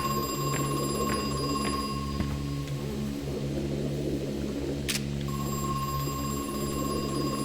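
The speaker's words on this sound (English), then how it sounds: "Where's that phone that's ringing?" Telephone ringing in the video game Crow Country: a faint, steady electronic tone over a constant low hum, cutting out briefly before returning, with a sharp click in the middle and no voices.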